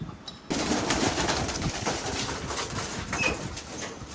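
Racing pigeons are released for a training flight in extreme heat, with a sudden burst of wing flapping, dense fluttering carrying on close by, and a few faint bird calls over it.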